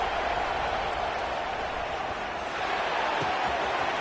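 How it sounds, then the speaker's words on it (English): Steady, dense roar of a stadium crowd at a football game early in the contest, a broad continuous wash of many voices holding level throughout without clear breaks. "Listen to the crowd energy here in the early going"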